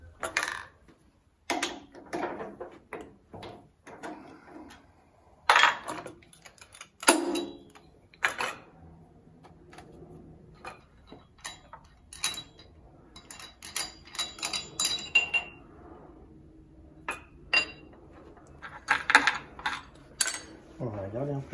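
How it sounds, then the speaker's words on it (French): A milling machine cuts into a lock being modified, with intermittent sharp ticking and clattering bursts of metal contact, moderately loud and spaced irregularly, with a quieter mechanical hum between. "Et je reviens sur la fraiseuse"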